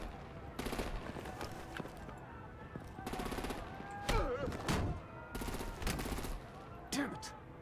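Bursts of machine-gun fire and heavy gunfire from a Batman: The Enemy Within video game scene, coming in several loud volleys with short pauses between them, mixed with voices and whooshing effects.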